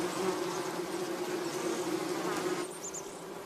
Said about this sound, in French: le jardin de ce temple bouddhiste n'en finit pas de bourdonner